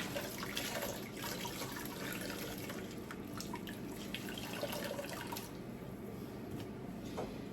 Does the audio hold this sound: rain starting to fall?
no